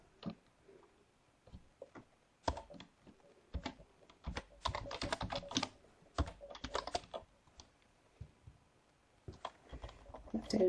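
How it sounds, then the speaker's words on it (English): A computer keyboard is typed on close up as a web address is entered, producing irregular clusters of crisp key clicks with short pauses between them. "we'll type in the URL."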